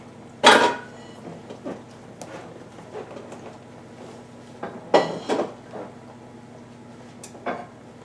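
Metal pan clanks and rattles as it is pulled out and handled in a home kitchen while making a leftover casserole, with a loud clatter early, a second cluster of knocks midway and a lighter clink near the end.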